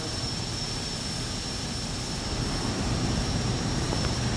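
TBM-930 turboprop engine running on the ground in Infinite Flight, a constant loud engine drone with a high steady whine, even and close throughout, no speech.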